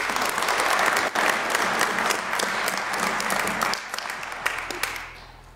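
A church congregation applauds during Sunday Mass, a loud, full burst of many hands clapping that holds steady and then thins out toward the end.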